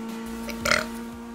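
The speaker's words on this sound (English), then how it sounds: "So you could burp into the microphone?" A single short burp made close to a microphone, rising briefly over a steady electrical hum and room noise.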